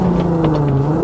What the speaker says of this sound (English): I keep my foot buried into the brake and bring up the revs and let go